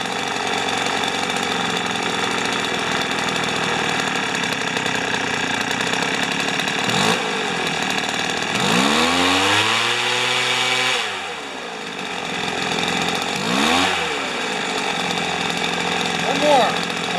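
A small two-stroke weed eater leaf blower engine idles steadily and loud during a tune-up, with a couple of brief revs dipping and rising mid-clip before it settles back to a constant buzzing drone.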